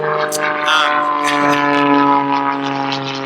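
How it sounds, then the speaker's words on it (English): A propeller airplane passes overhead with a steady, loud droning hum that swells slightly and then holds. It plays alone, with no talking. "The plane going over, it's ruining my 12 minutes to health"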